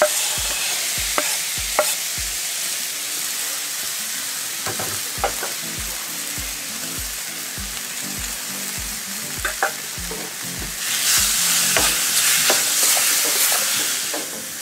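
Diced bacon and chopped porcini mushrooms fry in a hot pan for an autumn burger: a loud continuous sizzle with regular low thumps, occasional spatula scrapes, and a hiss that swells near the end.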